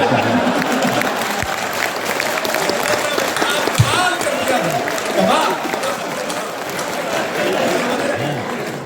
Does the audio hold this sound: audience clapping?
yes